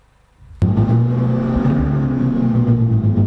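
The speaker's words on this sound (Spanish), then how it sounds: "Esta aplicación permite modificar el sonido del motor a través de los altavoces para que nuestro Clio suene como un coche de circuitos" A Renault Clio plays a simulated racing-car engine through its speakers using the R-Sound Effect app. After a quiet moment and a sharp click, a loud, sustained droning engine note starts and holds with slight pitch shifts.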